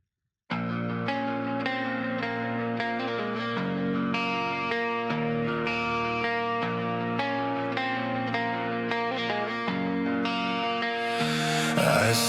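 An AI-generated song plays steadily after a brief silent start, a full mix of sustained tones and effects-laden instrumentation with a dense, swelling ending.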